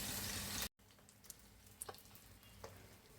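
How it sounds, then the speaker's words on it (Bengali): Pabda fish fries in hot oil, a loud dense sizzle at first that cuts off, followed by a quieter low hiss with a few sharp pops and spits. "মাছটা আমি 5 মিনিট ভেজে নিব।"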